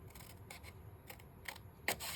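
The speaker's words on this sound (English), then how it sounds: "So I kind of cut down to a slant." Scissors snip through a page cut from a book, a few short crisp cuts spaced about half a second apart in a quiet room, with the last cut slightly louder.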